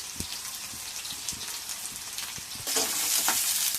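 A pan of garlic, onion and rice fries for fried rice, with a steady sizzle and light spattering broken by a few soft stirring knocks. The hiss swells louder near the end.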